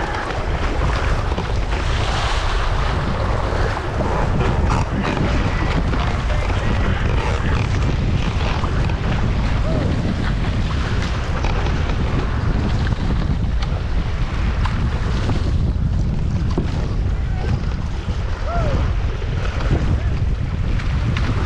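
Strong wind roars continuously while water rushes and splashes on a fast downwind ocean paddle in about 25 knots of wind, a loud, unbroken blustery wash of wind buffeting and sea with no clear talk.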